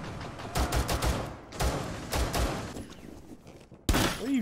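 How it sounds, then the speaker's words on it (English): Gunfire in the military shooter Squad: several sharp shots in short bursts, then a louder blast near the end, with game ambience underneath. "He's shooting."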